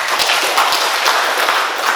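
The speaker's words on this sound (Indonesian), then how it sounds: "Tepuk tangan untuk saya" Dense, steady applause from an audience at a campaign event for a candidate for regent of Mamasa, a continuous wash of many hands clapping for the full two seconds with no voice over it.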